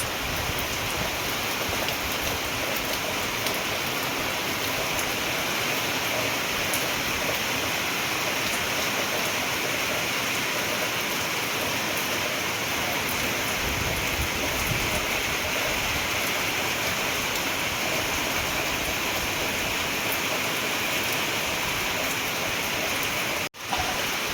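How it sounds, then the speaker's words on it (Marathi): Rain falling over open farm fields while the sun shines, a continuous steady patter and hiss of drops on surfaces, even and moderately loud throughout, with a brief knock near the end and no talking. "आणि हा पाऊस"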